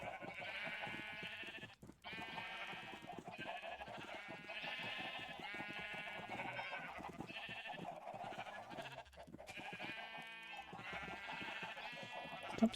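Minecraft sheep bleating repeatedly in the video game, a string of wavering nasal bleats in close succession with short gaps, moderately loud and clear throughout.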